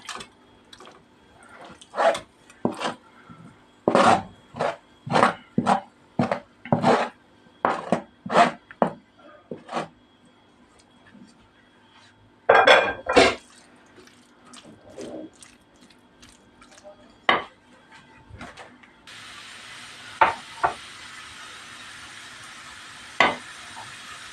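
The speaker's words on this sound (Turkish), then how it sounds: "Tavamı alıyorum." Chopped chicken breast for tantuni is handled in a frying pan, with a quick series of sharp clinks, scrapes and knocks in an uneven rhythm, close and fairly loud, followed by softer sizzling and a few isolated taps.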